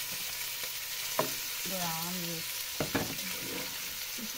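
Lechon fries with garlic and onion in a pan, a steady close sizzle with a few stirring clicks, while a voice briefly sounds over it.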